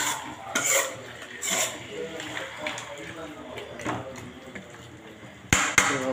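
Chicken semi-gravy stirred in a pan, a spoon scraping and clinking against the metal in irregular strokes, with a few sharper knocks near the end and a voice talking over parts of it.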